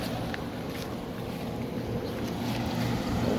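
A 1970s Admiral Super Deluxe window air conditioner runs steadily, its blower making a continuous broad rushing roar with a low hum beneath, close and unbroken throughout.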